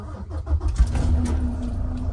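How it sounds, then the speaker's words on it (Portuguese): A new truck's engine starts with a short churn of cranking and then settles into a low, steady idle hum, heard close by with no talking. "Já liguei o caminhão."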